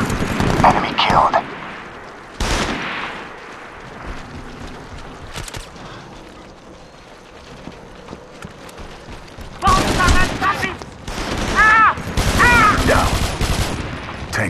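Bursts of automatic gunfire in the SOCOM 4 video game, loud rattling volleys at the start and again toward the end, with quieter gaps between and game voices mixed in.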